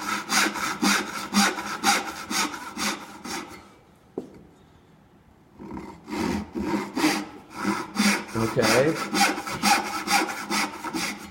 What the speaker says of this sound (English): we'll be sawing on the right side of the line here, just the same.